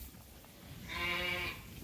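Suffolk lambs bleat in a farm pen, one clear, loud bleat rising out of the low shuffling and background noise of the enclosure.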